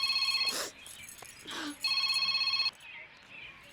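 An indoor telephone rings in two bursts of rapid electronic trilling separated by a pause, moderately loud and near, with brief murmurs and rustling between the rings.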